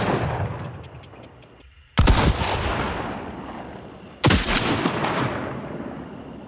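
Gunshots in the shooter game Gray Zone Warfare: two loud, sharp cracks with a supersonic snap, each followed by a long rolling echo that slowly fades, the second arriving about two seconds after the first.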